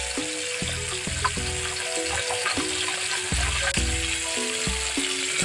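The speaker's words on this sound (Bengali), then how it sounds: "এভাবে টাকি মাছটাকে একটু ভেজে নিব," Taki fish frying in a pan, a steady crackling sizzle of oil running throughout, with repeated clinks and scrapes of a utensil against the pan punctuating it.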